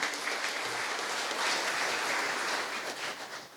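A hall audience at a Marathi book launch ceremony applauds the author, a steady wash of clapping from a moderately distant crowd that holds evenly for several seconds, then begins to fade.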